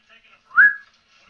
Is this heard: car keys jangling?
no